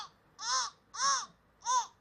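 A young child imitates a crow's caw, three loud, drawn-out "caw" calls spaced roughly evenly apart, close to the microphone with quiet between them.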